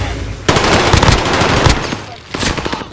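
Video game gunfire erupts in dense automatic bursts, loud and close, with a pause near the end before another rapid burst; a voice talks under the shooting.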